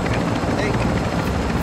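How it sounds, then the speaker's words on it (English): Player-controlled helicopter passing overhead in a multiplayer shooter game, a loud, dense rotor chop that stays steady and close throughout, alone with no talk. "Player chopper. Player chopper above."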